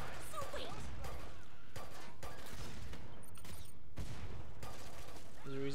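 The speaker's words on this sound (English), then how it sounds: "Like when I shoot, it just sounds like a toy." Gunfire in the video game Killing Floor 2, rapid bursts of light, toy-like shots and mechanical clacks repeated over several seconds, mixed with other game effects and someone talking over it.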